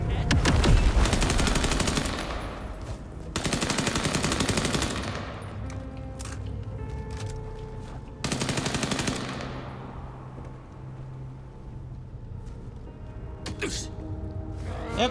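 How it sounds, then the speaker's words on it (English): Machine gun fire in Vampire: The Masquerade Bloodlines 2: long, rapid automatic bursts rattle loudly in three main volleys, with quieter shots and game noise between them, and a voice faintly under the action. "This is a guy with the MG."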